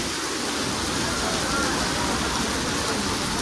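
Heavy rain pours over a market, a dense, steady hiss with a low rumble that holds at the same loudness throughout, close and continuous.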